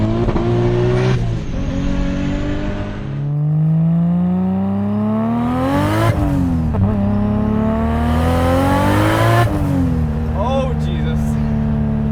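A Nissan S14's 680 whp 2JZ engine revs hard through repeated rising pitch sweeps to warm the tires, dropping between runs, loud and close, with a voice talking over it.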